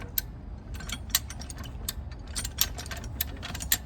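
A farm jack ratchets as it lifts a post, giving a run of sharp metallic clicks at an uneven pace, close and fairly loud, with no talk over it.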